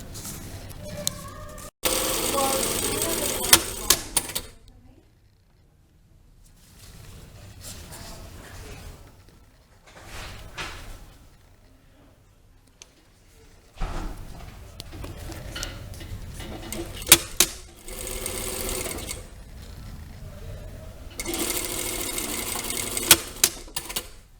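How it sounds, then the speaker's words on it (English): A domestic sewing machine stitching darts on a lined jacket, running in several bursts of rapid rattling separated by quiet pauses, with brief handling sounds. "I've sewn all of my darts, my shoulder darts and waist darts."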